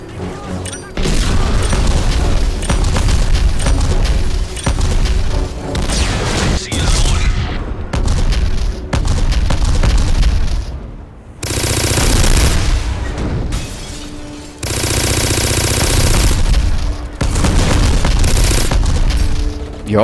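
Loud in-game explosions and bursts of gunfire in quick succession, booming blasts separated by short gaps, close and intense.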